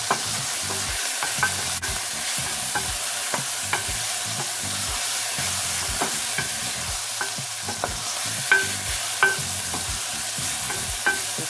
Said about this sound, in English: So just sauteing the vegetables until the onions are translucent.